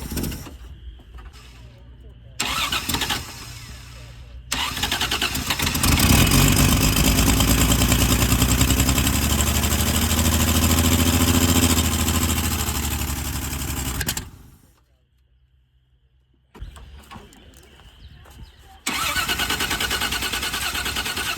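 A 1978 Plymouth Volare, revived after four years sitting in a junkyard with a suspected bad fuel pump, roars loudly and roughly for about ten seconds, then dies. It sputters briefly back to life amid intermittent voices.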